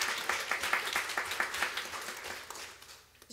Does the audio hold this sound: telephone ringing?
no